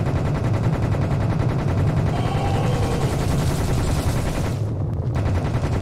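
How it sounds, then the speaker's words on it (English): Rapid, continuous automatic gunfire from a Tommy gun in the video game Serious Sam, a loud sustained burst that stops abruptly near the end. "It seems like a Tommy gun"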